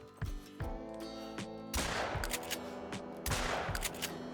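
Gunshots at birds in the hunting video game theHunter: Call of the Wild, two loud sharp reports a couple of seconds apart, each with a booming tail, over steady ambient game sound with no talking.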